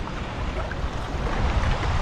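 Gusty wind blows across the Murrumbidgee River during a fishing trip, a loud, constant rushing roar buffeting the microphone with no voices.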